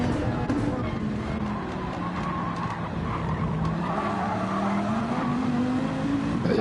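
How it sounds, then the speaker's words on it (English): A Dodge Viper race car at full throttle in a racing video game roars with a rising, sustained engine note, tire squeal mixed in, while a commentator talks over it. "Garni is absolutely levering that throttle on that Viper"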